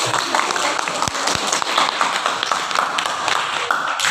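An audience applauds at the close of a debate on mining and environmental damage, a steady wash of clapping with a few sharper claps, continuous throughout.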